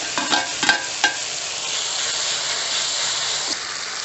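Ginger garlic paste, curry leaves and asafoetida sauté in hot oil for a mushroom curry, a steady close sizzle with a few light stirring scrapes near the start and no talking.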